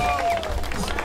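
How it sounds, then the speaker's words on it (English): Crowd cheering and applause from a dinosaur battle video game, a dense continuous roar of voices and clapping at steady loudness, mixed with game sound effects, brief and filling the whole moment. "The crowd goes wild."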